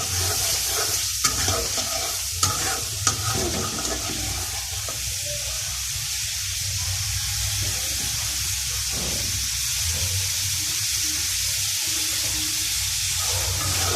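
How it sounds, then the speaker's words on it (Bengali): Spiced masala and potato pieces sautéing in a pan for a ridge gourd, potato and fish curry, a steady close sizzle with scraping stirs and a few sharp knocks against the pan. "মশলাটা ভালোভাবে কষানো হয়ে গেছে আলু সহ"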